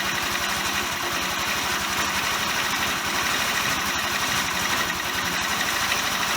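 A Chinese GY6 scooter engine, freshly rebuilt and reluctant to take throttle, idles with a steady rapid putter and buzzy rattle, close and continuous with no talk.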